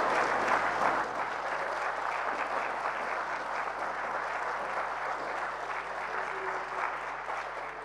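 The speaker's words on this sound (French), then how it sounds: "je veux demander à la plénière d'applaudir très fort" A plenary assembly applauds loudly, a steady wash of many hands clapping together for several seconds, slightly distant and reverberant.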